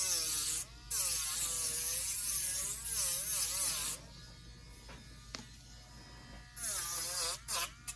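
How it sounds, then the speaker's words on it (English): A Dremel rotary tool whines against leather while shaping a handle, its high buzzing pitch wavering in bursts with short pauses between passes, close and fairly loud. "I bought this Dremel from Amazon."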